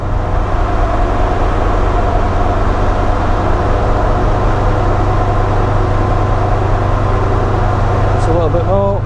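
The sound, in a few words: Land Rover Defender Td5 engine revving on a dyno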